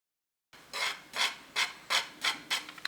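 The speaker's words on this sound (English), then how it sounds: "I'm now going to scrape this into our" Priming compound scraped into a rimfire cartridge casing for a .22 reload: six short rasping strokes in a steady rhythm, close and crisp, with no talk.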